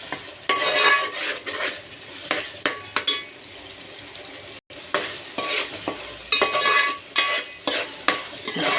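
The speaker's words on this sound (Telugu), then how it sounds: "ఆ పేస్ట్ కూడా వేసి బాగా ఫ్రై చేయాలి." Coriander and cumin paste fries and sizzles in a pan for fish curry, with steady crackle broken by repeated stirring scrapes and light clinks of a utensil against the pot, close and fairly loud.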